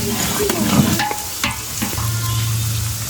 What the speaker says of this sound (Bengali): আদা রসুন কিছু গোটা কাঁচামরিচ পেঁয়াজ তেজপাতা আস্ত গরম মশলা এগুলো এখানে দেওয়া হয়েছে তারপর কষানো হচ্ছে